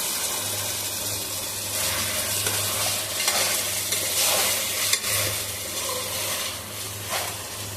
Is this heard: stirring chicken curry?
yes